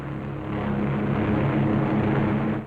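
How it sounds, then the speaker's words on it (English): World War II fighter and bomber aircraft flying away from Marcus Island after a raid, a loud continuous propeller engine drone that holds steady and then cuts off abruptly, with no voices. "As the fighters and bombers swing victoriously away from Marcus Island"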